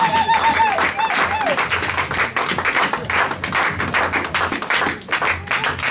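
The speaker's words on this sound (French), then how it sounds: "Acclame encore très fort pour la gloire du Seigneur." A church congregation applauds and cheers for the glory of God, sustained clapping and calls mixing with a loud voice, everything dense and continuous.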